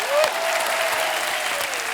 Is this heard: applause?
yes